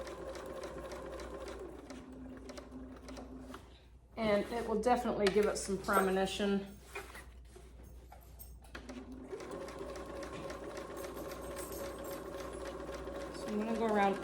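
A sewing machine runs in steady bursts, stitching around fabric pieces for a small bag with the needle left down for turning, pausing briefly while someone talks over the work.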